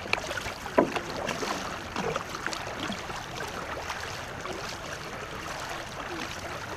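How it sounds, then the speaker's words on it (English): Paddle strokes from a war canoe crew at a Lycoming College practice, a steady wash of water splashing and dipping under wind noise, with one sharper splash near the start. "Let's paddle the same stroke as Dan."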